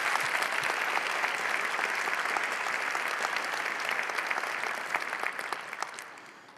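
A crowd claps enthusiastically in sustained applause, steady and dense, tapering off slightly toward the end.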